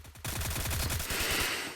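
A rapid burst of automatic gunfire from a battle royale shooting game in a late-stage zone fight. The shots are sharp, loud and evenly spaced, and they run almost without a break for under two seconds with no talk.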